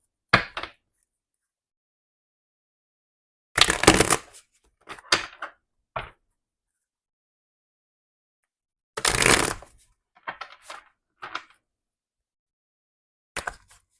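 Tarot cards are shuffled in short, crisp riffling bursts, close and clear, with a few isolated taps and long silent gaps between the shuffles.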